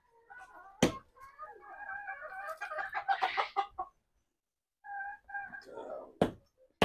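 Household chickens, a flock of around three dozen at a rural Bangladeshi home, cluck and squawk in busy overlapping bursts, with a pause midway and sharp knocks punctuating the calls nearby.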